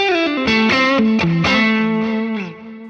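A heavily distorted electric guitar through a Fractal FM3 with heavy compression plays a short melodic phrase, thick and squashed, with sustained notes sliding between pitches before fading.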